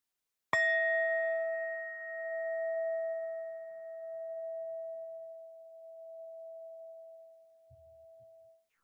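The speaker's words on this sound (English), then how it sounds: "I'll ring the bell" A meditation bell is struck once, giving a clear bright ding that rings on as a long, slowly fading tone through near silence before dying away.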